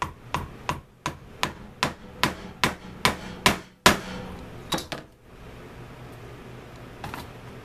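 A hammer striking a chisel to punch stitch holes in leather, about a dozen sharp, close taps in a quick, steady rhythm. They stop abruptly, and a single faint tap follows after a pause.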